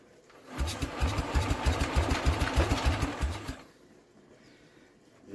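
An old scrap-yard Norman motorcycle engine is tried without choke, giving a few seconds of fast, rhythmic chugging that fairly loudly fills the space before cutting out to near quiet.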